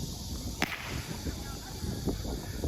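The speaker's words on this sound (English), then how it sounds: "it's the guys that come out with the whips. So they're whipping spinning tops" Sharp whip cracks from people spinning tops with whips on a street in Wuhan, China, one loud close snap followed by a fainter one later, over steady outdoor city ambience.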